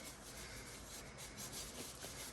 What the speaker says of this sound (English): We're going to degrease the wood because we got our fingers on it. Doesn't take much, just wipe it down.